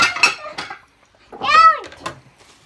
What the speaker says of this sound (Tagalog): Naghuhugas ako ng mga plato.